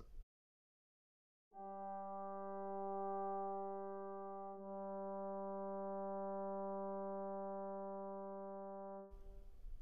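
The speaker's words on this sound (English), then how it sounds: "If you listen just to the horns, they sound like this." Orchestral horns hold sustained notes for a Romantic symphony, a smooth, steady brass tone entering after a short silence and ringing for about eight seconds before cutting off, clear and alone.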